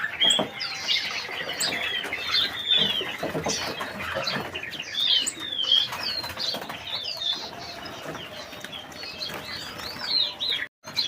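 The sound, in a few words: caged finches fluttering and chirping in bird shop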